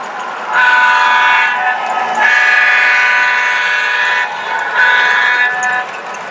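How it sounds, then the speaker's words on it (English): A model Santa Fe passenger train set runs steadily, its horn sounding in long sustained blasts at close range with brief gaps between them, and no voices present. "So why don't we get this train rolling?"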